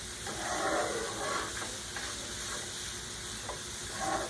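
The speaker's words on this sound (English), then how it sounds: "Stir that in. You don't want to add the garlic too early, because the garlic will burn a whole lot easier than anything else." Garlic sizzles in a pan for Cajun chicken pasta, a steady low hiss with periodic scraping swishes as it is stirred in, close but fairly quiet, with no speech.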